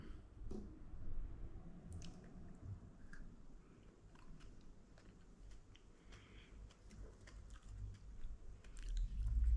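Someone eats crunchy cookie dough with crêpes dentelles close up, with quiet crisp bites, crunching and chewing under soft background noise.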